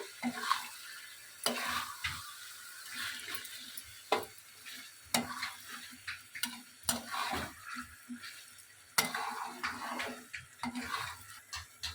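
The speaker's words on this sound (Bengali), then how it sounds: "আবারও ভালো করে কষিয়ে নেব দইটা দেওয়ার পরে" Country chicken curry with added yogurt is stir-fried in a pan, with a quiet sizzle under repeated clanking spatula strokes against the metal, irregular but frequent, near and without talk.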